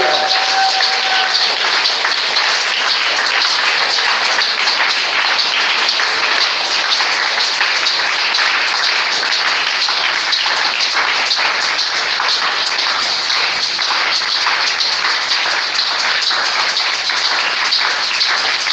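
A church congregation applauds and acclaims the King of Kings during a prayer service, a loud, dense, unbroken wash of clapping and cheering that holds steady for the whole stretch with no let-up.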